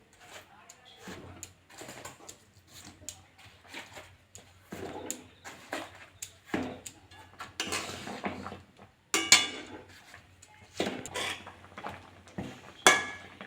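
Mung dal bakul pitha dropped one after another into thickened boiling milk, giving soft intermittent plops and clinks of utensils against the pot, fairly quiet, with talk between.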